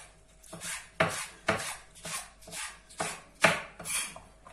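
A knife chops red and green peppers on a cutting board, about eight crisp, evenly spaced strokes in a steady rhythm, close and clear with no talk.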